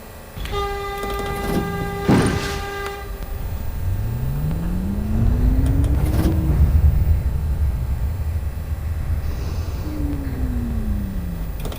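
An R62A subway train in the OpenBVE simulator departs South Ferry: tonal chimes and a horn blast come first, then the motors whine up in pitch as the car rumbles out, with another rising motor sweep later.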